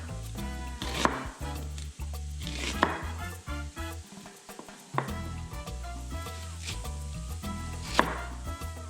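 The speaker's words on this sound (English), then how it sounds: "I'm gonna grab the onion, cut it in half." A knife cutting an onion in half on a board, a few sharp chopping knocks spaced about a second or two apart over steady background music, close and fairly quiet.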